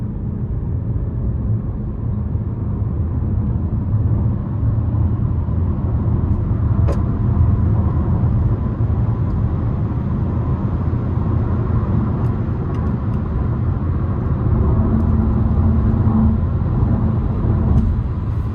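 A 2026 Buick Encore GX Sport Touring with a 1.3-litre turbo and CVT pulls onto an interstate, its engine droning in a steady, rising hum under loud road and wind rumble heard from inside the cabin.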